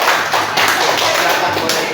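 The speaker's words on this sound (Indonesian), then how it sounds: "Berarti tepuk tangan dulu untuk kelompok matahari" A classroom group claps for team Matahari, a short dense burst of hand claps close by, with voices mixed in.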